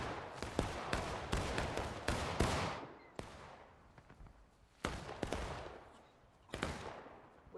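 Soldiers in a musket-era multiplayer battle game fire at the enemy, scattered volleys and single sharp gunshots that ring out with long decaying echoes, some crowded together and others spaced apart, moderately distant, with no talking.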